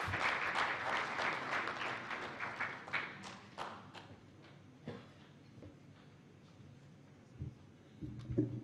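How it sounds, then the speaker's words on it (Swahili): An audience at a formal World Press Freedom Day ceremony in Tanzania applauds the British High Commissioner, dense clapping that thins out into scattered claps and thuds, with faint murmuring and rustle afterward. "Makofi kwake tafadhali."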